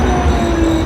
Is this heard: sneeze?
no